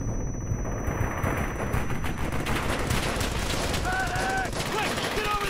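Heavy machine-gun fire in the WWII shooter Brothers in Arms: Hell's Highway, a dense, loud, unbroken rattle of automatic shots, with brief voice-like calls rising over it near the end.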